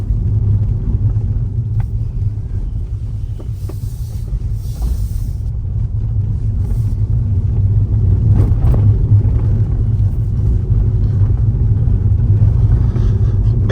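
Inside a 2026 Fiat Fastback Audace hybrid rolling over cobblestones, a steady low rumble of tyres and road fills the cabin, with faint scattered knocks and rattles from the suspension, fairly muted and continuous with no talking.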